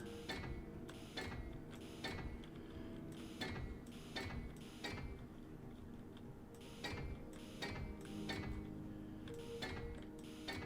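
Hand welding tool in the video game Space Engineers, a quiet steady mechanical whir broken by regular ticking, ratcheting pulses at roughly half-second intervals, continuous and unaccompanied by speech.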